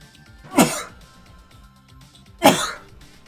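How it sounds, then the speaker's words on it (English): Two separate sneezes in a quiet room, each a short, sharp, loud burst close to a headset microphone, spaced about two seconds apart with near silence between. "No one wants to hear someone sneeze in their ear."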